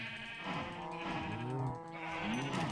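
Minecraft sheep bleat in a steady run of short wavering calls, loud and close, with other game ambience behind them and no talk.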